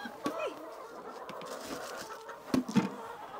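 Chickens cluck softly in deep snow in Upper Michigan, making a few short, scattered clucks and calls up close, with quiet outdoor background between them.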